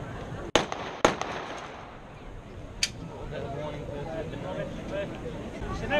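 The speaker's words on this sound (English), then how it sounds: "It's an M1 carbine." An M1 carbine fired at an outdoor firing display in Sheffield, two sharp cracks close together near the start and a fainter third shot, with crowd murmur and people talking throughout.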